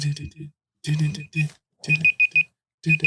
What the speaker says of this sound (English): It is my fucking laptop again. What's that beeping?